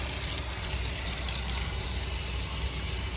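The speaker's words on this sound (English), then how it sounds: "A nice, good cleaning rinse on this." Water sprays and rinses through a micro channel central A/C condenser coil during cleaning with coil cleaner, a steady hissing wash heard close and unbroken with no talk.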